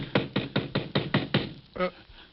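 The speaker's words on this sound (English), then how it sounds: "What's that? Someone at the door." Knocking at a door in a Sherlock Holmes radio thriller: a quick run of six firm raps, evenly spaced, then a short pause and one more knock, clear and close.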